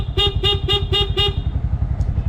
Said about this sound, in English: The first one and the most important one is the honk.